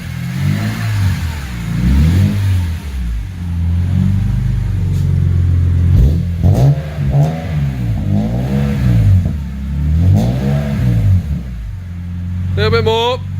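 A recreated BMW E30 M3 engine idles with a deep rumble and is revved up and down several times to around 5,000 RPM, loud and close, while people talk over it.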